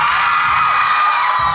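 A crowd of fans at a live show in Taipei screams and cheers in a sustained, high-pitched roar that stays loud and steady throughout, with no individual voice standing out.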